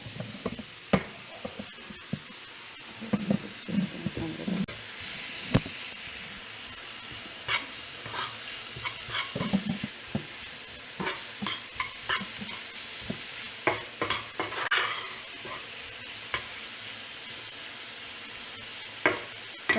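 Spices and meat frying together in a pot, giving a low steady sizzle broken by clattering stirs and knocks of the spoon, close and moderately loud, with no talking.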